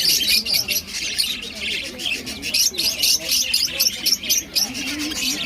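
Caged parrots at a bird market, a dense, lively chorus of sharp chirps and squawks repeating throughout, with crowd murmur and scattered voices underneath.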